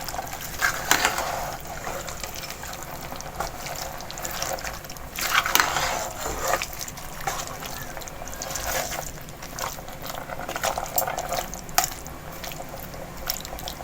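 Potato and green garlic stirred together in a pan, with soft wet scraping and sizzling textures running continuously at close range, no talking.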